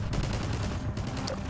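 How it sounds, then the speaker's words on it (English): Soldiers open fire in Half-Life 2, with rapid, continuous machine-gun bursts rattling from several directions at once and filling the whole moment at close range. "everyone's just shooting at you from all these different angles"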